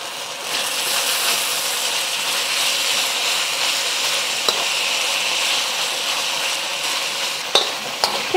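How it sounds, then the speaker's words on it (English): Beef searing in oil in a hot pan, a loud, steady sizzle with a few sharp clinks and scrapes as it gets stirred near the end, with no one speaking. "Gonna let that sear for about a minute before giving it a stir."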